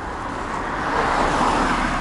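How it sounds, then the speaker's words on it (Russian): A car rolls past on a roadway, its broadband tire and engine rush growing slightly louder toward the middle and staying steady through the two seconds, with no voices over it. "Ага, машина едет."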